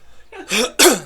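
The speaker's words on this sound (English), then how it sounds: "Are you coughing?" Two short, sharp bursts close to the microphone, a quick cough followed by a louder second one, after a faint breath.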